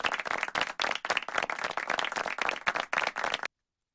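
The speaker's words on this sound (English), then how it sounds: "Please join me in giving a warm round of applause" Audience applause for a guest arriving on a talk show: brisk, dense clapping from a modest crowd, fairly close and lively, lasting about three and a half seconds before cutting off abruptly to silence.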